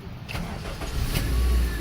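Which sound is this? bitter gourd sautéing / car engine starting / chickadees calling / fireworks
car engine starting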